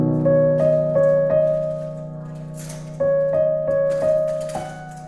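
Piano plays the opening chord of a song, struck as repeated sustained chords in two short phrases with a brief pause between, clear and close with no talking.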